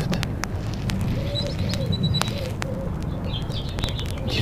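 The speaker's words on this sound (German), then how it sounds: "Die Vögel singen so schön." Birds sing in a mossy natural setting: scattered faint, high chirps and short calls rise over a steady broadband background hiss, with occasional sharp clicks, and no voices.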